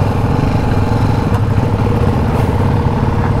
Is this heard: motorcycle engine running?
yes